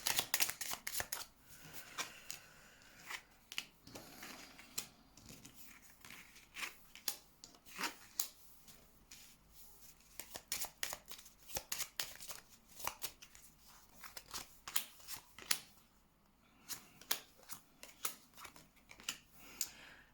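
Tarot cards being shuffled by hand, a dense run of quiet crisp riffling and sliding card sounds throughout with no talk.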